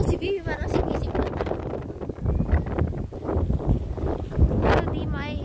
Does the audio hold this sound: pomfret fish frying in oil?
no